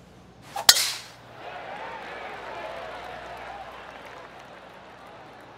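A golf ball is struck from the fairway on a two-shot hole during a PGA Tour Northwest Open round, a single sharp crack near the start followed by a soft crowd murmur and faint ambient noise.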